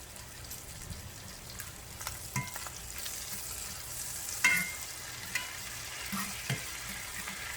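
Porterhouse steaks sear in a pan with a soft, steady sizzle dotted by occasional small pops and crackles, heard up close at a fairly low level, with no speech.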